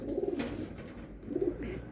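Racing pigeons back home after training, several of them ill, give two soft, close bursts of throaty cooing with a short pause between them.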